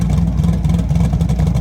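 A drag car's engine on a new no-prep build holds a loud, steady, close rumble while revving against the two-step, with no cutout evident in the short burst.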